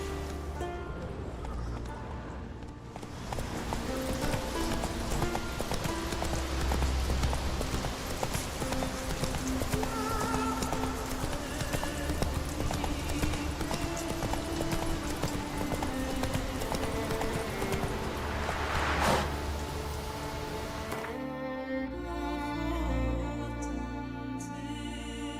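Roach, the horse in The Witcher 3 video game, gallops in rapid, continuous clip-clop hoofbeats over game music, loud and steady for most of the clip before slowing near the end.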